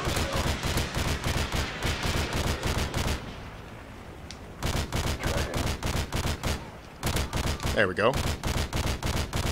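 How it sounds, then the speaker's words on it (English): Rapid bursts of chopper gunner machine-gun fire from a helicopter in Modern Warfare 2 hammer loudly across most of the stretch, pausing briefly midway, with a short spoken remark. "Oh, and I'm using chopper gunner."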